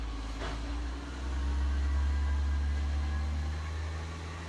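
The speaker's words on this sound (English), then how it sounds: "now I've got a garbage truck" A garbage truck engine outside rumbles as a steady low drone that swells after the first second and then holds, heard from a distance through walls with no voices.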